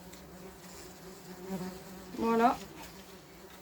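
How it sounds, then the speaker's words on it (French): A swarm of wasps from a nest hidden in a wall hums and buzzes close by in a steady drone that swells briefly as one passes near, while a voice speaks once. "on a de plus en plus de guêpes qui volent autour"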